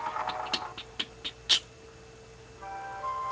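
A cat meowing in the video game Kingdom Hearts, heard as a few short, fairly quiet mewing calls in a quick irregular series, followed by a soft sustained musical tone from the game's soundtrack.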